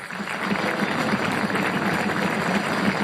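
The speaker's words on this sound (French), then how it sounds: "L'adoption de l'accord à une écrasante majorité est accueillie par une salve d'applaudissements" A sustained round of applause fills the European Parliament plenary chamber after a vote, dense steady clapping from many hands heard at moderate distance without a break.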